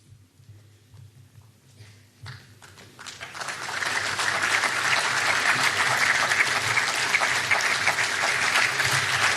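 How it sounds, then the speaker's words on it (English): Audience applause at a Goa seafarers' gathering, starting with scattered claps that swell after a few seconds into steady, dense clapping from a sizeable crowd, carrying on loud and unbroken to the end. "A round of applause to Jason De Silva,"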